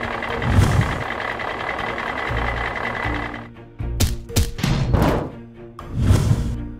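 A container truck engine rumbles steadily, then gives way to a series of clunks and thumps, with a louder engine surge near the end; distinct reversing beeps are not clearly evident.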